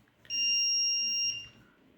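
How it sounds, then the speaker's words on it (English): A motion-triggered buzzer on a Raspberry Pi smart mirror sounds one steady electronic tone lasting about a second, clear and fairly close, with quiet room noise before and after. "whenever there is any motion you will get the buzzer"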